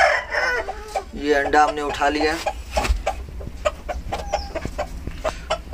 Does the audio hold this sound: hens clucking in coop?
yes